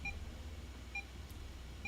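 An electronic hospital monitor beeps in a quiet white room in the video game 9 R.I.P. Soft, evenly spaced single tones, about one each second, sit over a low steady hum.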